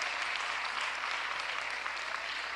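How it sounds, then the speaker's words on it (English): Audience applause for Pennsylvania Governor Josh Shapiro at Philadelphia's State of the City address, a dense steady wash of many hands clapping throughout, fairly loud and continuous with no talk. "huge round of applause"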